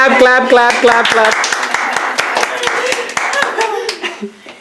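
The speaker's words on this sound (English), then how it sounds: "Clap" A small family group clapping at home, a run of quick, fairly close claps layered under children's and adults' voices talking and laughing, fading out toward the end.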